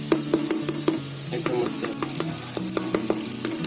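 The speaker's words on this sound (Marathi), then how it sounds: "एका बाजूनच भाजले, त्या आवाज बघ" Bread cutlets fry in hot oil in a pan on a gas stove, a steady close sizzle with bubbling and crackle under light taps of a spatula stirring and turning them.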